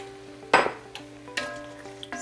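Fire roasted diced tomatoes being stirred into a gumbo pot, three or four distinct scraping stirs with knocks of the spoon against the pot, close, over a low background hum.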